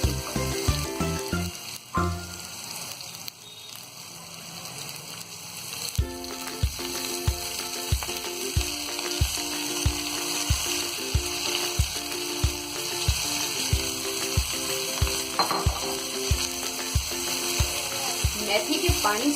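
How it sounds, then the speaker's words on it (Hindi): Steady sizzling of fenugreek leaves frying in a pan with ginger and garlic, with rhythmic scraping and stirring strokes throughout, close and continuous, no talking. "मेथी के पानी सूखने तक हम इसे भून लेंगे।"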